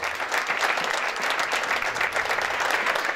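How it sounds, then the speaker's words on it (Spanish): A crowd applauds teachers during a news program, a steady, dense wash of clapping that stays even and fairly loud throughout, with no voices on top. "Un aplauso a todos ustedes, que se lo merecen."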